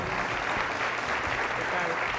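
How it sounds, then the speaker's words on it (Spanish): A book-launch audience applauds the editorial chief of a publishing house, a dense, even burst of clapping that fills the short stretch with voices mixed in. "fuerte el aplauso"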